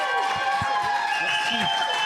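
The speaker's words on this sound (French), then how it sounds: "Je vous demande de l'applaudir avec tout l'amour du monde." A live audience applauds steadily in front of a public recording of a talk show as a guest is welcomed on stage. The applause is dense and sustained, with crowd voices mixed in throughout.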